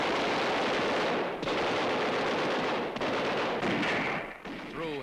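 Archival battle footage from Manila carries dense crossfire, with bursts of gunshots and rattling fire over a constant loud roar, and a faint voice near the end.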